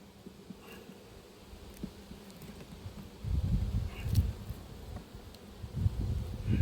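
Bees buzzing around a beehive at an apiary, a soft steady hum close by that swells louder in the second half, with no talk.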